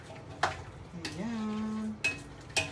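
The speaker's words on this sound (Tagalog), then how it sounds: "lagay na natin siya dyan at halu-haluin natin" Carrots being stirred into menudo in a pan, with a few sharp utensil scrapes and clinks against the metal and a brief hum of movement between them, close and moderately quiet.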